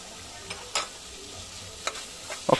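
A spoon stirs mutton chana dal curry with masala in a pan, making a few sharp scraping clicks and taps over a quiet low sizzle, with the loudest knock near the end.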